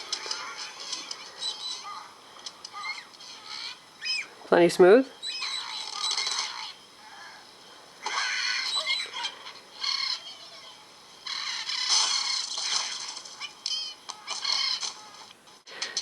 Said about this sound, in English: And we've got Angry Birds Rio loaded up.